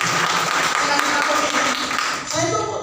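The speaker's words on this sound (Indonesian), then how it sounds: "Tepuk tangan dulu buat saya." Church congregation clapping for the preacher at a prayer-house service, a dense, loud burst of applause filling the room and easing slightly near the end as a voice comes through.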